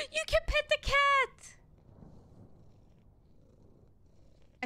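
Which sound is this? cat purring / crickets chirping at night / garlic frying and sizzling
cat purring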